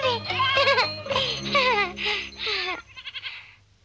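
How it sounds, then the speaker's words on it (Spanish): Goats bleat on a mountain pasture in a lively, wavering series of calls, close and fairly loud, with a cowbell-like tinkle and a voice alongside. "Si quieres, puedes ir con Pedro y las cabras a los pastos."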